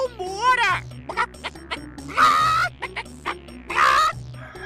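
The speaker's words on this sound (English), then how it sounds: "When the rooster crowed, the guests ran out since it was so noisy" A cartoon rooster in an animated fairytale lets out several loud, wavering, strained cries in separate bursts, voiced in a squawking way, with short sharp noises between them.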